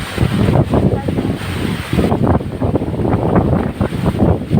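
Strong mountain wind gusts buffet the microphone in heavy, rumbling bursts, rising and falling without pause.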